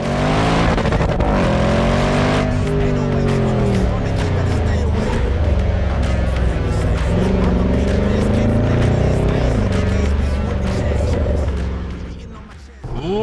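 A supercharged 5.0-litre V8 Range Rover Sport SVR accelerates hard, its loud engine note climbing through rising gear sweeps with a brief shift break, then easing off near the end.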